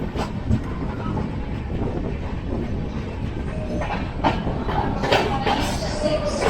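The Gitanjali Express passenger train rolls along the rails with a continuous loud rumble and rhythmic clickety-clack heard from inside, with wind noise and a few sharper rattles toward the end.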